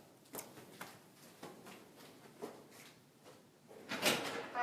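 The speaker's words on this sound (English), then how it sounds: "hold on one sec while I get the door." A house door being opened, a few faint clicks and soft knocks spaced through the quiet, then a louder latch clatter and swing near the end, heard close in an otherwise still room.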